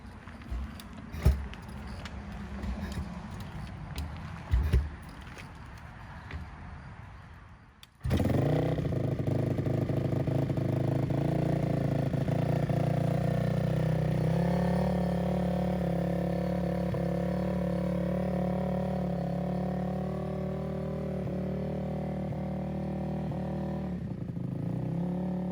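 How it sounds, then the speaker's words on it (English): A 2004 Honda TRX450R ATV engine, just refilled with antifreeze, gear oil and motor oil after new gaskets, cranks with clattering, then catches and settles into a loud, steady idle that runs on alone. "we will be ready to fire this thing up"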